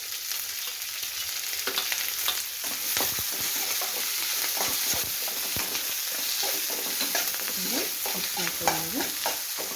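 Onions, green chillies and curry leaves fry in a pan of hot oil for potato bhaji, with a steady close hiss and sizzle under repeated scraping and stirring strokes throughout.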